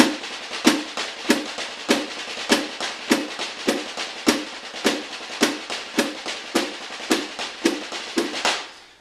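A drum kit plays a six-stroke roll pattern with accents in a Latin groove, giving steady, evenly spaced stick strokes with sharper accented hits, moderately loud, with no talking.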